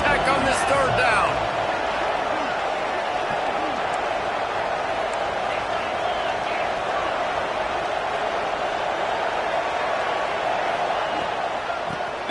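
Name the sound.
stadium crowd cheering at Texas Tech football game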